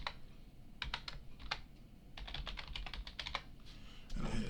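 Fingers type a password on a computer keyboard in several quick irregular bursts of close, light key clicks, with a louder clatter at the end and no talking.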